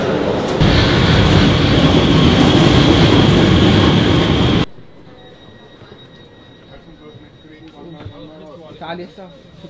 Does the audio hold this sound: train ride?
yes